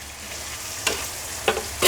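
Tomatoes and coriander frying with chicken in a pan: a steady soft sizzle with three brief scraping stirs of a spatula, close by, no talk.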